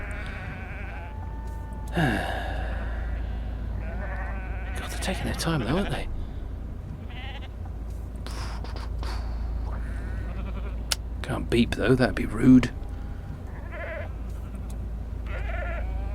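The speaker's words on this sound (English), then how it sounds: "Ah, look, sheep being herded." Sheep being herded bleat intermittently at a moderate distance beneath a steady low engine hum, while a person talks over them.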